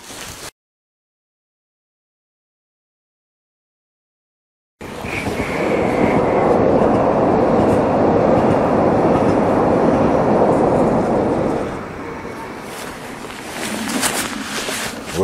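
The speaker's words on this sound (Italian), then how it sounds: "Guardare passare i treni è uno dei massimi divertimenti di questa città" A train passes through an Italian city: after a silent gap, a loud, steady rumble rises and holds for about seven seconds, then eases into lighter, uneven noise as it moves away.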